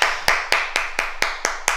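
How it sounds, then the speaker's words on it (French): A group in a karate class clapping together in unison, eight crisp, evenly spaced claps at a quick steady rhythm, loud and close. "On s'applaudit."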